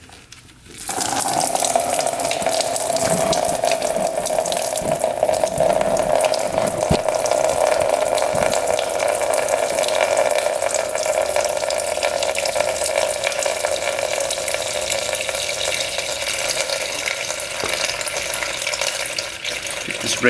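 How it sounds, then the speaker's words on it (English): Coolant pours from a 2-stroke race quad in a steady, loud, continuous splashing stream lasting about twenty seconds, with no talking. "Coolant should pour out of there."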